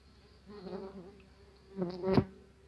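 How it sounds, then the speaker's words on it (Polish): A tree bumblebee buzzes close by at its nest box in short bursts, its drone rising and falling before a louder, sharper buzz near the end. "zagnieździł się trzmiel, trzmiel drzewny."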